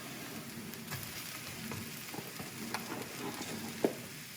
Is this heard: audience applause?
no